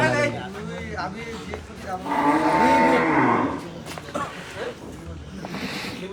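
A cow lets out a long, loud moo close by on a farm, with other lowing and people talking around it.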